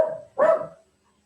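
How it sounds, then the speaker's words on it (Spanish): Dogs barking close by in two quick bursts, the second louder and fuller, with no one talking over them and silence after. "aquí los perros están haciendo su fiesta ya"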